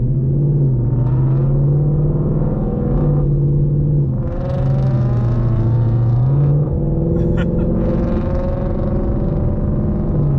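A manual 2020 Ford Mustang GT pulling away from a traffic light, a loud, close engine drone that rises and falls through the gears, heard from inside the car.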